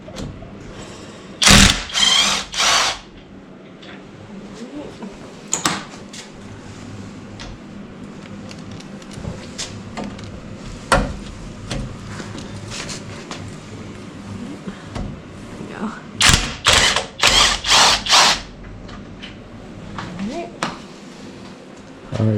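Ratchet removing 9/16 front bolts on a Jeep TJ during a winch install, clusters of loud, close rapid clicks in two bursts with quieter mechanical handling between, and people talking at times.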